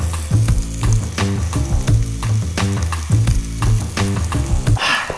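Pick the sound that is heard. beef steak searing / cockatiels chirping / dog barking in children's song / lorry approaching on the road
beef steak searing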